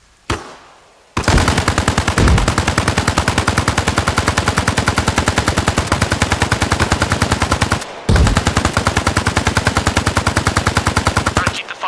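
Sustained automatic gunfire in the military video game Arma Reforger, with loud, rapid, evenly spaced shots in two long bursts and a brief gap between them.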